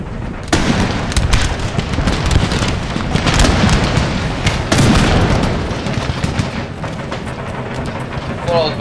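Cannons fire long-range volleys in the strategy game Empire: Total War, with a dense run of loud booms and crackling blasts across a battlefield, some close and sharp, others rolling and layered under the ongoing din.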